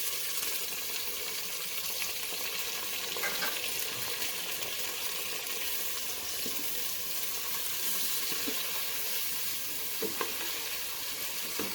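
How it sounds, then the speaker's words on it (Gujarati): Long-cut onions sizzle steadily in hot oil with chillies for a gourd pulao, and a spoon scrapes and stirs at intervals. The frying is continuous and close. "હવે આપણે લાંબી કટ કરેલી ડુંગળી એડ કરી દઈશું."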